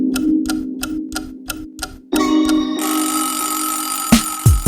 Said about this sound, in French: Mais le réveil s'est mis à sonner.